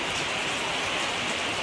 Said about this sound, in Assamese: কিমান বৰষুণ দিছে বাহিৰত